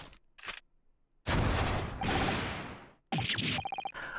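A gunshot in the video game The Great Ace Attorney Chronicles bursts out as a loud, sharp blast with a long noisy tail, framed by quieter game effects and chimes.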